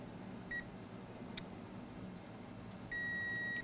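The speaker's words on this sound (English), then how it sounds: "Let me quickly test this fuse to see if it's good. Meter in continuity mode." A multimeter in continuity mode gives a brief beep, then a longer steady tone as its probes test a fuse on a laptop circuit board. Both tones are fairly faint and come alone over quiet background hiss.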